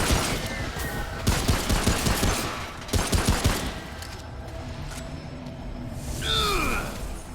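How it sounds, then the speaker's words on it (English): Machine gun fire in the shooter RPG Remnant: From the Ashes, bursts of rapid shots coming in loud clustered volleys through the first few seconds, then easing off into a quieter stretch with a brief swooshing effect near the end. "speaking of machine gun fire"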